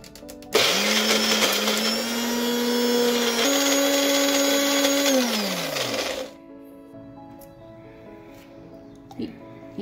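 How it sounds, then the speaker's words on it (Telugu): A mixer grinder whirs loudly as it blends hair pack ingredients into a smooth paste, its motor pitch rising and shifting once before spinning down. A quieter hum lingers after it stops. "ఈ పదార్థాలన్నీ ఒక మిక్సీ జార్లో వేసుకున్న తర్వాత మిక్సీ గ్రైండ్ చేసుకోవాలి"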